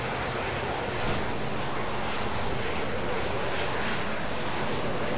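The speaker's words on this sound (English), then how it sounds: "We are at V1 now. VR. And we're rotating. V2. Gears coming up now." Airplane taking off and climbing, a loud, steady broadband roar of engine and rushing air that fills the cabin with no break, while the landing gear retracts.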